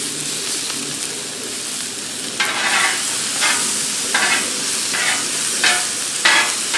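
Steak sizzles on a hot Blackstone griddle, a steady loud frying hiss broken by repeated bursts of scraping as it is moved around, with no talking.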